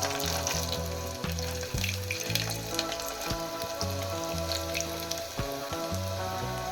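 Peanuts, almonds, cashews and pumpkin seeds sizzle and crackle as they fry in a pan, a steady frying hiss running under rhythmic background music.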